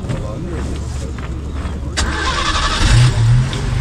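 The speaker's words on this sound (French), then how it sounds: "Alors on va la démarrer. On va démarrer le bolide." A 1961 Simca P60 Etoile engine cranking and catching, with a rough mid-pitched rumble that swells as the car fires up, close by, while someone talks over it.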